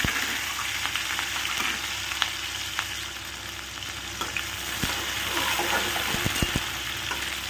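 Chopped onion frying in hot oil for a mother's vegetable dish, a continuous dense sizzle with scattered crackles and spoon scrapes throughout, fairly close and steady.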